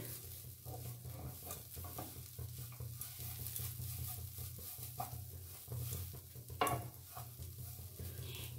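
Papaya for payesh is stirred and fried in a frying pan: a soft continuous sizzle with rhythmic scraping strokes from the spoon and an occasional sharper knock against the pan.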